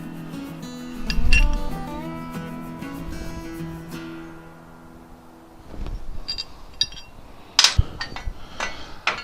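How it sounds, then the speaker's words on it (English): Metal hardware bits for strut mounting, such as bolts and washers, clink and rattle as a hand rummages through them, with scattered sharp close clinks and a few louder knocks and no talking. "Let's find some bits here."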